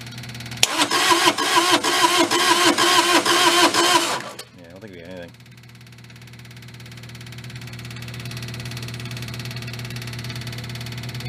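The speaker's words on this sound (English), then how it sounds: "let's give her another crank, see what it does" A non-running Bobcat engine cranks with a loud, rapid rhythmic starter chug for about four seconds without catching, then a brief whirring rattle and a low steady hum afterward.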